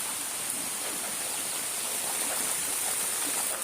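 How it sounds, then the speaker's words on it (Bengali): Steady rain falls in a broad, even hiss that stays constant and fairly close throughout, with no voices. "দেখেন ভালোই বৃষ্টি হচ্ছে"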